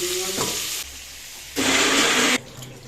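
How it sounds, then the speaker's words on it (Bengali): Shrimp fry lightly in oil in a wok, the sizzle surging in two bursts with a quieter lull between, close and fairly loud. "চিংড়ি মাছগুলো দিয়ে দিয়েছি কড়াতে"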